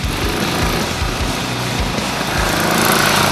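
Royal Enfield Bullet 500 with a 499cc single-cylinder four-stroke engine running, a loud steady thumping putter that swells slightly toward the end, with no voices.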